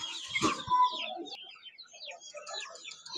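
Chickens at a poultry market in Mirpur, Bangladesh, a short loud squawk followed by soft scattered clucks and chirps nearby, with no talk.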